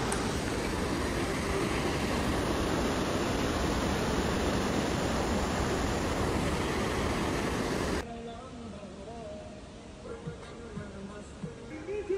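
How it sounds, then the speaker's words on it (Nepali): A river rushes beside a trekking trail in the Langtang valley, a loud, steady broadband roar for about eight seconds before dropping abruptly to quieter background with voices talking. "खोलाको साइड साइड हिँड्नुपर्छ, खोलाको आवाज आइरहेको छ।"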